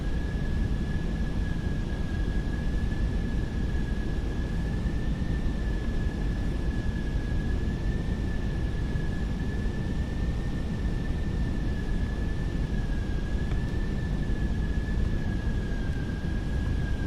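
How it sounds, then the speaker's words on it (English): Fenix A320 engines under auto thrust in a flight simulator, landing into a gusty quartering headwind. They make a steady, unbroken broadband roar with a faint sustained whine, constant in level throughout and with no voices. "Hear the auto thrust fighting those winds"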